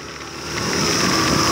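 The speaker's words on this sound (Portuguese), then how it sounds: "E a moto tá pegando, tá ligado, irmão?" A motorcycle engine idles and builds slightly in level, its steady running hum growing louder toward the end with no talk over it.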